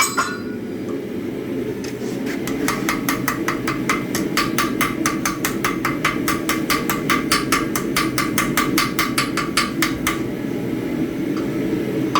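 A hammer rings out in a fast, even run of bright metallic strikes as hot steel for a flint striker is bent over an anvil horn, loud and close, with a forge roaring underneath.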